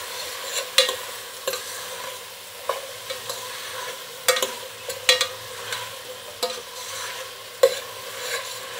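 A spoon scrapes and stirs through thick bisibele bath masala in a cooking pot, giving irregular scraping knocks and clinks over a faint sizzle, close and fairly loud, with no talking.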